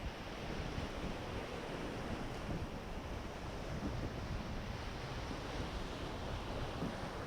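Steady, loud roar of whitewater rushing through the one sizeable rapid on the Illinois River between Pine Flat and Klondike, running at about 650 cfs, a continuous broadband wash with no voices.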